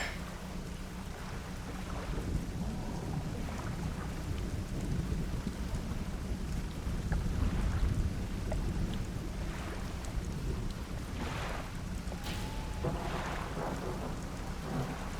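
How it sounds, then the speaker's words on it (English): Steady heavy rain and rolling thunder from a stormy night at sea in the fishing video game Dredge, a dense continuous downpour with deep rumbles swelling midway, no speech. "It's a dark and stormy night."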